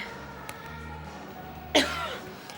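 A single sharp smoker's cough bursts out clearly over a quiet room hum, followed by a short fading breathy tail.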